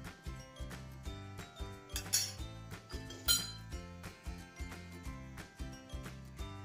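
A metal spoon clinks and scrapes against a hot kadhai as two spoonfuls of ghee go in to start Ukdiche Modak filling, giving repeated close, bright taps in an uneven rhythm with no one speaking.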